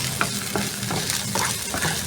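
Garlic and onion sauté in hot oil in a pan, giving a dense, continuous sizzle with light stirring scrapes, close and steady with no talking.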